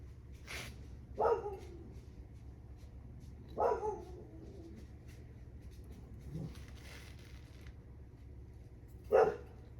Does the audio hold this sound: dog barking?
yes